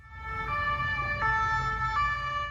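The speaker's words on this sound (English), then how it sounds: "European sirens are better and less annoying too." A European fire truck's two-tone siren wails steadily, alternating pitch in a moderate rhythm, loud and fairly close with a low road rumble beneath.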